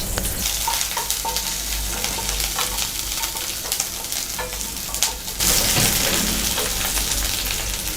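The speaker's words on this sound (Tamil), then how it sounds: "இஞ்சி, பூண்டு, கிராம்பு இது எல்லாமே நம்ம வந்து ஒன்றாவே போட்டு நல்லா வதக்கிக்கலாம்." Ginger, garlic and cloves sauté together in a hot pan, giving a steady dense sizzle with scattered stirring scrapes and a louder burst of frying partway through.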